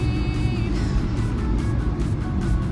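Steady low rumble of a Harley engine on a motorcycle being ridden, a continuous loud drone with slight shifts in pitch, close by and alone without talk.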